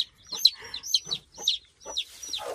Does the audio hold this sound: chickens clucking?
yes